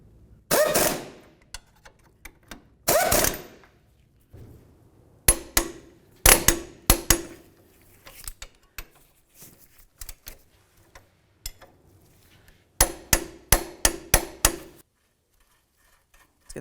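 A wrench works the mounting nuts on a 2002-2006 Honda CR-V front lower ball joint, giving sharp metallic clicks in short clustered bursts separated by quiet gaps, close and distinct.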